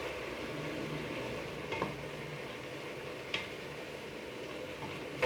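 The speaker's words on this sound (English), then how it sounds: "that little bit of chicken stock did the trick to get my vegetables sauteing" Vegetables soften in a splash of chicken stock in a pan. The soft, steady simmering sizzle is faint, with a few brief stirring scrapes.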